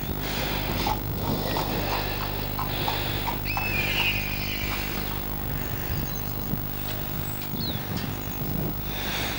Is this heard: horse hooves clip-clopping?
yes